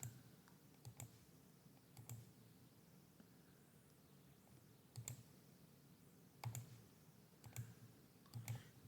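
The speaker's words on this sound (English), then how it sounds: "then right mouse click" Quiet, sparse computer mouse clicks, single and double taps spaced irregularly against a faint hum, close and soft.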